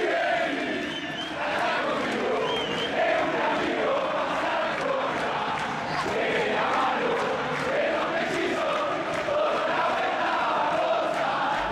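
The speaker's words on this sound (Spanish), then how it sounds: "El dale campeón que bajaba de las tribunas, los jugadores que aplauden" Boca Juniors supporters in the stadium stands sing a sustained, dense chant during a 2017 championship celebration against Unión, a loud, continuous crowd roar with rhythmic swells and no clear individual voices.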